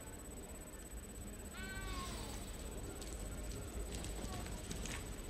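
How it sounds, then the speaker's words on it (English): A cat meows once in Hogwarts Legacy, a short falling cry with a rising edge standing out over a steady outdoor game ambience, with faint clopping hooves behind. "You don't need to be frightened, little cat."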